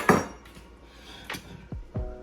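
A metal lid set partly over a simmering pot of rice and beans on the stove: a sharp clank followed by a few lighter clinks and taps, close and fairly quiet.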